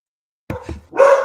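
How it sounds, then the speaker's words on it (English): A dog barks sharply at the doorbell a few times up close, loud and agitated, with the last bark drawn out into a higher yelp. "Someone has dared to ring my doorbell, and my dog is not having it."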